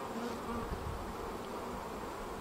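Honey bees at an open hive give off a faint, steady, even drone that carries on without a break.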